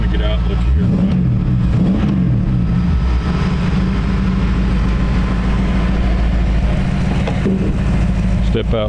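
A 1932 Ford coupe's 302 V8 engine idles with a deep, rumbling throb and is blipped a couple of times early on, rising briefly in pitch before settling back.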